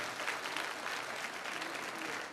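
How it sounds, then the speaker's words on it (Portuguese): A church congregation applauds warmly, a dense, steady clapping crowd filling the space for a couple of seconds without a break. "Queria que nós aplaudíssemos de todo o coração."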